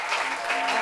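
A studio audience claps briefly during a French-language talk show, a short, dense burst of steady applause heard alone.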